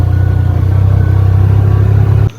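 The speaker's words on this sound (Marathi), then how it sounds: "इथे फर्स्ट गिअरवरतीच गाडी चढवावी लागते" A car climbs a steep village road in the Konkan countryside in first gear, its engine a loud, steady, close-up drone that cuts off abruptly at the end.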